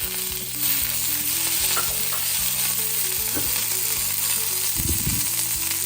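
Doddapatre (Indian borage) leaves sizzle steadily in a hot pan for a chutney or gojju, a continuous loud frying hiss with faint stirring clinks and some low tonal sound underneath.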